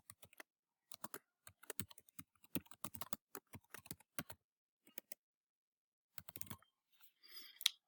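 Someone types a session name on a computer keyboard in short bursts of quick, light key clicks with brief pauses between them, close and clear, with no speech.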